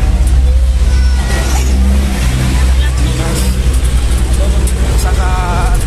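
A jeep travels along a road on a trip to a beach resort in Ternate, Cavite, giving a loud, steady engine drone and road rumble close by, with a faint shift in engine pitch partway through.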